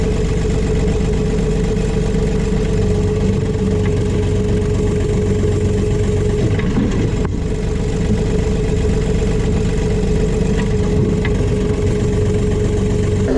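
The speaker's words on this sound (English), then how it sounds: "So we can go on and lift up the backhoe." A John Deere 3039R compact tractor runs at a steady idle-like drone while lifting a 375A backhoe attachment, a constant loud engine hum with a brief hydraulic strain partway through.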